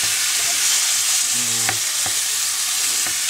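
Curry and rice being stirred in a hot pan, a gentle sizzle of frying running throughout with a few soft scraping strokes of the utensil, close and steady with no talking.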